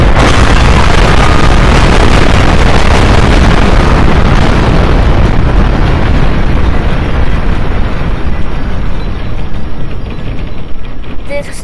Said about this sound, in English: he would use all his power to summon 10 billion meteors upon the supermarket.